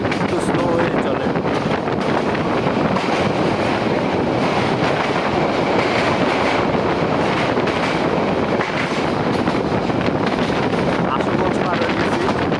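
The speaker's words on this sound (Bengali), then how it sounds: "আমাদের ট্রেন ব্রাহ্মণবাড়িয়া প্রবেশ করছে।" The Porjotok Express from Dhaka to Cox's Bazar, on an old-style rail line nearing Brahmanbaria, gives a loud continuous rumble and clatter heard from inside the moving carriage.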